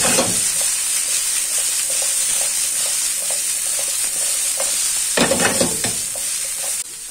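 Brussels sprouts caramelizing in a pan give a steady, close sizzle and hiss throughout, broken by scattered scrapes and knocks from stirring, with a louder burst of clatter near the end.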